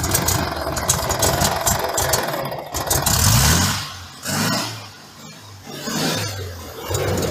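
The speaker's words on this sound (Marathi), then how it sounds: "गाडी स्टार्ट झालेली आहे." A vintage Volkswagen car's engine runs after starting at a vintage car show in Mumbai, a loud close idle with rising and falling revs over background crowd noise.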